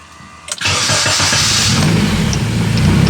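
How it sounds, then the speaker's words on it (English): A rear-wheel-drive car with a turbocharged K24 engine cranks briefly and then catches, settling into a loud, steady, close-up idle. "let's start this thing up again"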